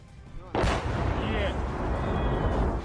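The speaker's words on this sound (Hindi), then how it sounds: "जिसके बाद वहां एक जोरदार धमाका हुआ" A sudden, heavy blast from Russian bombardment in Kharkiv, Ukraine, erupts and rolls on as a sustained, rumbling roar, loud and dense, with faint voices underneath.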